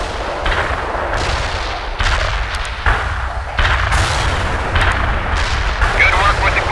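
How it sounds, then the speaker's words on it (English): An artillery barrage firing in the video game World in Conflict, a dense, continuous rumble of heavy booms and blasts layered over one another, loud throughout with repeated surges of impact. "Artillery firing."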